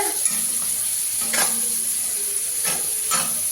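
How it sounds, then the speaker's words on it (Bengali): Chopped onions fry in hot oil in a kadai (wok), giving a loud, steady sizzle broken by a few sharper bursts as the pan is stirred. "পেঁয়াজ দিয়ে দিয়েছি এই কড়াইতে।"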